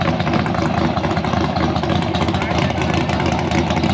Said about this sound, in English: Damn, the truck loud as fuck.